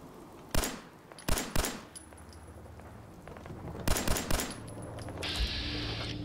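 Fallout 4 gunfire in short bursts: a few sharp shots early, then a quick cluster of rapid shots over a steady background hum.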